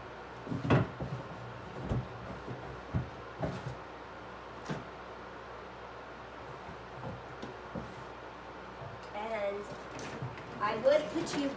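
A drawer of lace in a craft nook slides open with soft thumps and scraping clatters, followed by quiet rustling and a few handling knocks at close range; no speech is heard.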